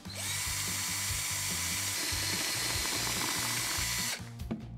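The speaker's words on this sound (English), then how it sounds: "Use the drill to make a hole in the side of the bottle, around 1/4 inch" Power drill boring a hole in the side of a plastic soda bottle: a loud, steady motor whine with rhythmic grinding for about four seconds, then stopping abruptly, close up and without speech.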